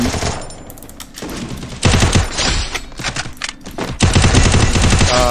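Dense, loud automatic gunfire from a 4 vs 4 competitive shooter match fills the whole stretch, with rapid overlapping shots that swell even louder in the final second.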